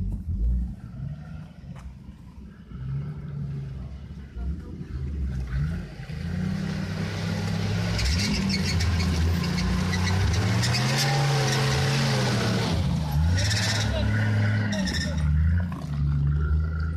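A car revving and driving at a CJ car meet, its engine roaring steadily and loudly as it accelerates and holds high revs, with crowd voices faint underneath.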